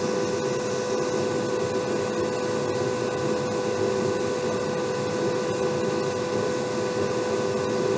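A series-wound electric motor running at high speed on 60 volts, a steady, loud whining hum with a constant pitch and no breaks.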